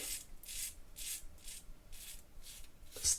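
A safety razor scrapes through a two-day beard on a first pass with the grain, making short rhythmic rasping strokes about every half second, close and fairly quiet.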